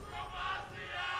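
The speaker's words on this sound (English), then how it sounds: "The crowd yelling Bromacia." An arena crowd at a League of Legends esports match roars in a steady, distant wash of yelling and cheering that swells and dips slightly, with no clear talk over it.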